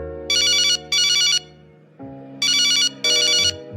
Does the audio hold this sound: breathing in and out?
no